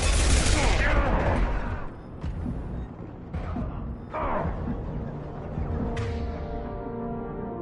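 Heavy gunfire rattles through a Mass Effect 2 firefight, dense bursts and sharp shots piling up continuously with a voice speaking over the shooting.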